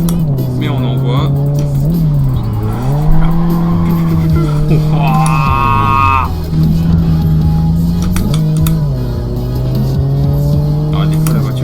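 Tires squeal in long, sustained skids while an engine hums steadily in the Test Drive Unlimited Solar Crown racing game, with the pitch sliding up and down through turns and a voice talking over it.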